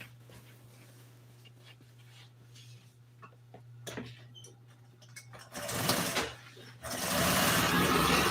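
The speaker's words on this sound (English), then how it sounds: "I got 3 more lines to sew." A sewing machine stitches upholstery for 1955 Chevy seats, running in short bursts and then a louder sustained run close by, with a steady low hum underneath and faint handling noises between runs.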